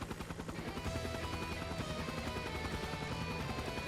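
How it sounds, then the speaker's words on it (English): A helicopter's rapid, steady rotor thumping in the video game Trails of Cold Steel III fills the air continuously, loud and close overhead, with no one speaking. "What's that sound? It's above us. A helicopter?"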